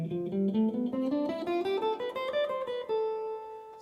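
A guitar plays a harmonic minor scale in a single ascending run of clear, ringing picked notes, loud and alone with no voices.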